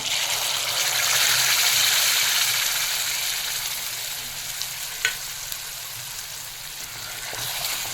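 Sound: sautéing ground masala gravy in oil

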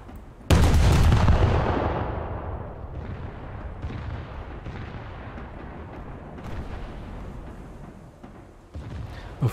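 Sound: boat guns firing in naval video game

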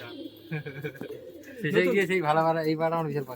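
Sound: pigeons cooing and flying up

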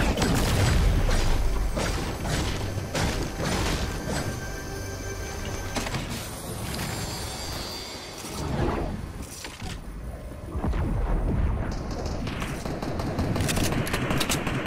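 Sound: gunfire in Fortnite video game

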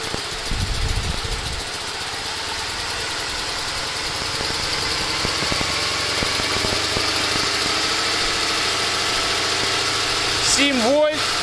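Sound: engine revving with Soviet G-414/G-11 generator fitted

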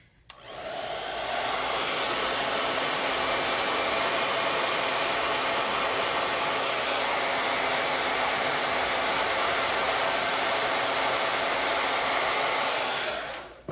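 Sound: hair dryer running

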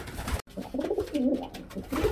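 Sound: pigeons cooing in a breeding loft

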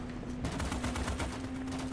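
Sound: turret gunfire in Starship Troopers: Extermination video game

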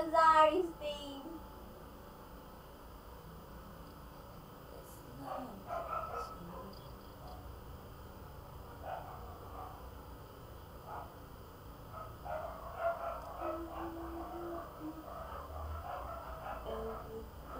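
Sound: dogs barking

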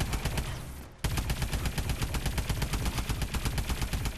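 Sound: pistol gunfire in Call of Duty Advanced Warfare Exo Zombies video game

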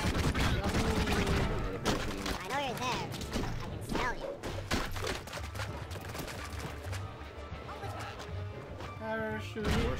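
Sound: gunfire in a shooter video game

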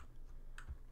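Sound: computer keyboard arrow keys being pressed

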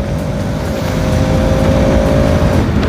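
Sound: Yamaha R15 V3 and Bajaj RS200 motorcycles racing

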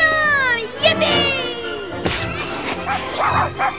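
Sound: dog barking in Heart of Darkness video game trailer

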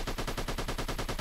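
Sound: AK rifle gunfire in the video game Goatman

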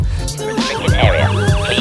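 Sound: CCTV camera intruder alarm siren

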